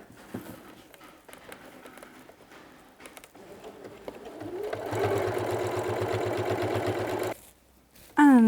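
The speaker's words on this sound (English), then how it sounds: "So now I'm just going to sew all the way around." A sewing machine stitches all the way around the edge of a fabric place mat, a quiet steady whir that swells mid-clip, runs for a few seconds, then stops.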